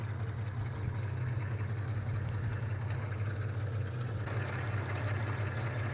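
A 3.7-litre straight-six in a 1935 Rolls-Royce 20/25 limousine idles smoothly with a steady, even low hum, heard up close and alone.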